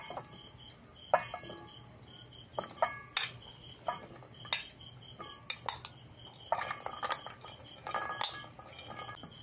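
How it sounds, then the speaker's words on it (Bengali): Aloo kabli ingredients being moved into a large bowl make scattered metallic clinks and scrapes of utensils against dishes, sharp and irregular over a faint steady insect-like hum. "দেখুন একটা বড় পাত্রের মধ্যে আমি জিনিসগুলোকে ট্রান্সফার করে নিচ্ছি"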